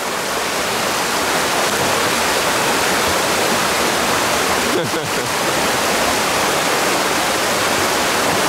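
Clear, pure creek water at Monkey Creek, Milford Sound, New Zealand, rushing steadily in a loud, continuous broadband wash that fills the whole stretch, close to the microphone, with a brief ripple of disturbance midway.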